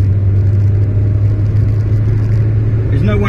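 An Austin Allegro cruises at 50 mph with a loud, constant engine drone and road rumble filling the cabin, while someone talks over it.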